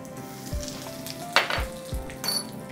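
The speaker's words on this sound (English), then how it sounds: "If you want a little more taste of green chilies, allow it to fry for a while" Hing and green chilies fry in hot oil for green peas dhokla, a soft steady sizzle with a few light clinks of a pan and utensil, no talking.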